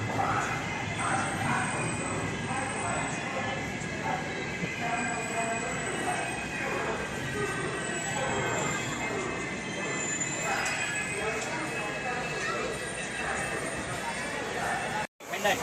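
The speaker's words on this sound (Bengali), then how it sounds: "ট্রেন ঢুকলে আসানসোল জংশন।" A train pulls into a platform at Asansol Junction with a sustained low rumble and thin, high wheel squeals running over it, while voices murmur around the busy platform.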